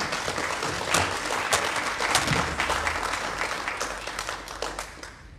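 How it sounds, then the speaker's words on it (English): An audience at a talk on tracing ancestry breaks into sustained applause, a dense, even patter of many hands clapping that continues for several seconds and slowly thins. "I think we owe Marcia another round of applause."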